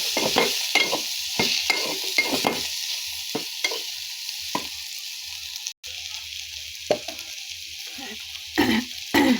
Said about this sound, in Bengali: এখন তেলের মধ্যে মশলাগুলোকে একসাথে মিশিয়ে এগুলোকে একটু কষাই ফেলব